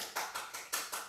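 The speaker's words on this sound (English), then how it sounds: "give him a nice round of applause" A dance class applauds, a few loud, distinct sharp claps spaced irregularly over about a second, heard close and alone.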